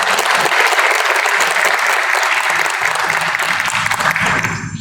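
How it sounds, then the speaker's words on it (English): Graduating students of Delhi Public School, Sonepat give a loud, sustained round of applause, a dense crowd of clapping close by that holds steady before tapering off at the end. "let's give ourselves a big round of applause"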